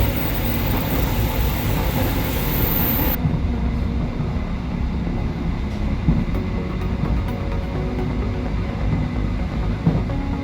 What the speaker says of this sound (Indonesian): kereta api Baturaden Express telah tiba di stasiun Krupuk.